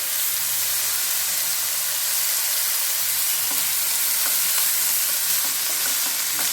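Raw banana pieces frying in hot oil in a pan, a dense, steady close-up sizzle and hiss with faint stirring sounds throughout, loud and unbroken, with no voices.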